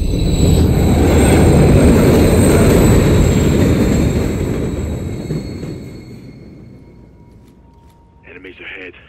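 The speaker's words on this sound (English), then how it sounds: "Another train coming." A train thunders past in the Call of Duty: Modern Warfare 3 campaign, a loud, roaring rush with high metallic whine that holds steady, then fades away as a brief burst of talk or radio chatter follows.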